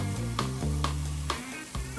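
Onion sizzles in a generous drizzle of olive oil in a preheated pan with a garlic clove, a steady close frying hiss broken by several rhythmic scraping stirs.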